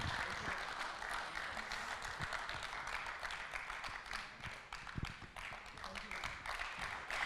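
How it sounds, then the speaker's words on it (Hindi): Audience applause greeting a guest at a televised awards event honouring Corona warriors, steady crowd clapping with a few sharper close claps, continuing throughout under a live hall atmosphere. "बहुत तालियों के साथ स्वागत कीजिए इनका"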